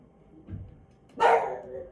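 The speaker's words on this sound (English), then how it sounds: "Listen to it barking" A single bright electronic dog bark sounds from a push and pull toy book, short and close, preceded by a faint rustle of handling.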